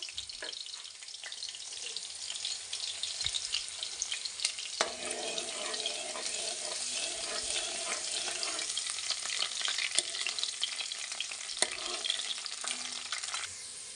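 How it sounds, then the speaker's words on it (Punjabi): Garlic browns in hot oil for a tomato chutney, giving a steady, close sizzle and crackle with occasional stirring scrapes throughout. "ਹੁਣ ਇਹਦੇ ਵਿੱਚ ਆਪਾਂ ਲਸਣ ਐਡ ਕਰ ਦਿੰਨੇ ਆ ਲਸਣ ਨੂੰ ਆਪਾਂ ਬ੍ਰਾਊਨ ਕਰ ਲੈਣੇ ਆ ਹਲਕਾ ਜਿਹਾ"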